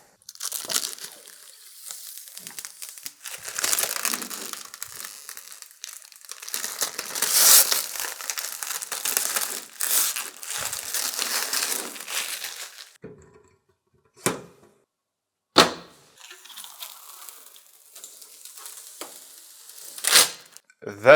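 Protective plastic film being peeled off a PC case's tempered glass panel, a long crinkly, crackling tear lasting many seconds up close, followed by a few sharp isolated crinkles and snaps.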